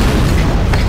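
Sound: ballista shot in video game Dark Messiah of Might and Magic

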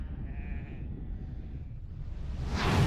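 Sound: sheep bleating

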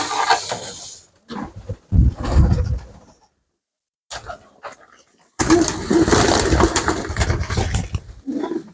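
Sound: pigeons cooing in a dovecote

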